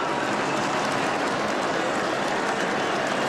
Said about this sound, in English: Just listen to the crowd bring him home